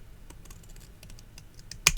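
Scissors cut through a paper card label in a few small snips, ending in a sharper, louder cut near the close. The sound is quiet and close, with no voices.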